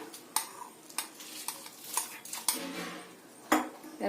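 A metal spoon clinks and scrapes against a pot while rice is stirred in boiling milk for payesh, with sharp, irregular taps repeating about every half second.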